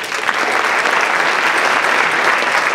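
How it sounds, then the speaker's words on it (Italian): Audience applause at an entrepreneurs' event as a membership card is handed out: a full crowd clapping steadily, loud and sustained for nearly three seconds, with no talk over it. "un applauso"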